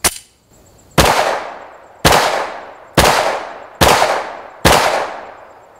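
A Springfield XD-M 9mm pistol fires five rapid shots outdoors, each a sharp, loud crack with a decaying ring, spaced about a second apart.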